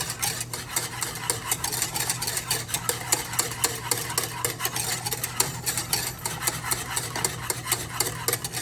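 A whisk works steadily through thickening milk sauce for mac and cheese, rapid rhythmic scraping against a pot, close and continuous over a low steady hum.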